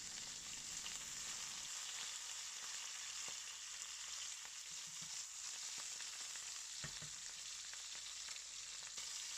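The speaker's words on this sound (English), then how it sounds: "Pan fry the first side for 2 minutes using medium heat." Belt fish pan frying in a wok over medium heat, giving a steady, close hiss of sizzling oil that runs through the whole stretch, with a few faint clicks and light stirring touches underneath.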